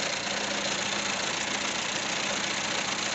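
A Skoda Favorit engine running steadily, a close, even mechanical hum and clatter with no change in pace across the short stretch.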